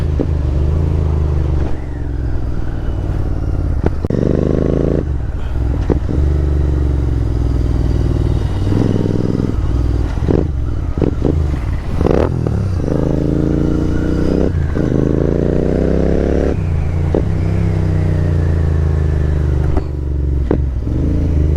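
A GT 650 motorcycle fitted with a Rooster exhaust runs loud and close, its engine note rising and falling through repeated revs and throttle blips with a rumbling, throaty tone and no talking.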